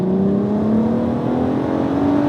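A VW Golf MK5 R32 with its VR6 engine pulls in second gear, a loud, steady in-cabin drone whose pitch climbs smoothly as it accelerates, with no talking.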